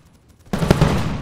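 Cannon fire and gunfire in the video game M.A.V., a sudden loud burst of rapid shots and booms that breaks in after a quiet start and keeps roaring to the end.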